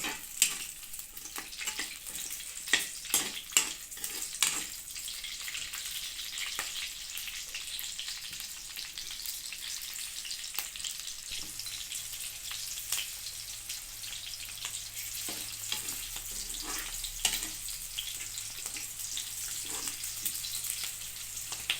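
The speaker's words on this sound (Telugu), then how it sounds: "ఈ పచ్చిమిరకాయ ముక్కలు కూడా బాగా దోరగా వేపుకుందామండి." Green chilli pieces frying in a pan for vankaya roti pachadi, a steady close crackling sizzle with scattered sharp pops and occasional stirring scrapes, no talking.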